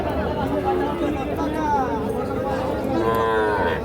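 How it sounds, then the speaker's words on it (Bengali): Young bull calves, around three to four months old, moo repeatedly at a busy village cattle market, loud drawn-out calls rising over a constant crowd babble and nearby chatter. "তো দেখছেন এইগুলো কিন্তু ষাঁড় বাছুর।"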